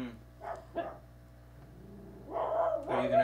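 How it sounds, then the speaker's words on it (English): Dogs bark in a neighborhood, giving a couple of short barks followed by a louder, sustained burst of barking and yipping, moderately close, with no talk over them. "We have to wait for the dogs to quit barking."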